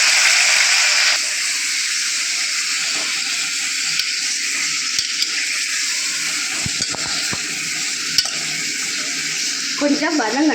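Washed chicken pieces with whole spices like star anise and cinnamon stick frying in a pan for Tamil chicken kulambu, a steady loud hiss and sizzle with occasional stirring clinks.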